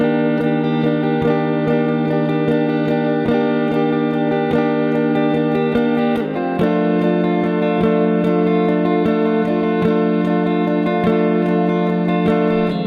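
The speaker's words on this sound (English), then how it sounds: "So the strumming pattern I'm playing there is pretty simple." Acoustic guitar strummed with a capo in a steady up-and-down rhythm for several bars, chords ringing continuously with a brief change partway through, close and even.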